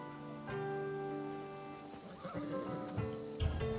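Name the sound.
horse neighing, from a video game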